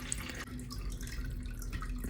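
Water poured steadily from a watering can into an AeroGarden Bounty indoor garden, a continuous close splashing trickle with a low hum underneath.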